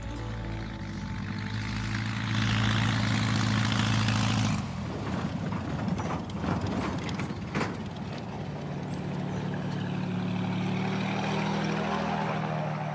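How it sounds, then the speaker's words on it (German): A small propeller plane touches down on a gravel airstrip in the woods on an island off Maine, its engine droning loudly before the wheels crunch and rattle over the gravel and the engine settles to a steady idle. "Die erste Landung des Tages steht an."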